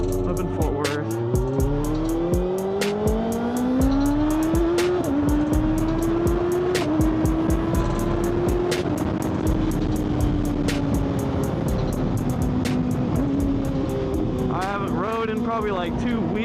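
A Kawasaki ZX6R motorcycle rides through traffic around Fort Worth, its engine whine climbing through several gear shifts and then holding at a steady cruise, with a sharp rev burst near the end over constant wind rush.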